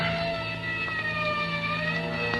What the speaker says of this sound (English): somewhere in the distance I heard a siren